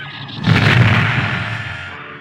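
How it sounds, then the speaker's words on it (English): A single heavy cannon blast booms out, a sharp loud report that rolls into a long, fading rumble. "one of the Droid World cannons aimed at them and fired"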